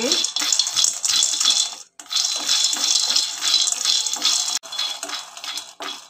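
Peanuts fry in half a bowl of oil with garlic, dried red chillies and curry leaves in a pan on a low flame for brinjal curry. A steady, close dry rattle and scrape of stirring runs throughout, broken by two brief pauses, with no talking.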